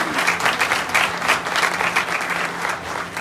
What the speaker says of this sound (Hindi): मैं चाहता हूँ कि सभी लोग अपने माता पिता के लिए एक बार जोरदार ताली जरूर दें।